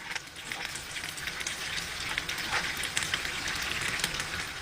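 Fingers frying in a pan of oil with a heavy salt coating, a steady dense crackling sizzle with scattered sharp pops, continuous and close, with no voices.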